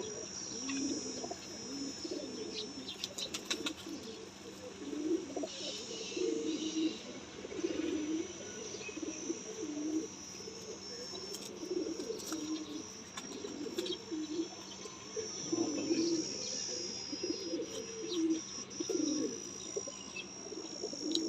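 Pigeons coo in a breeder's loft, low burbling calls rising and falling steadily throughout at moderate distance, with crickets and other small birds chirping faintly in the background.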